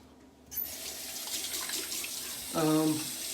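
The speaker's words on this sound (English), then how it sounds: "So let me wet my face." A bathroom faucet runs steadily while water is splashed onto a face before a safety razor shave, with a louder gush and wet splashing near the end; no one speaks.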